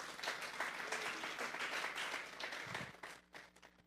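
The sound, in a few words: congregation applause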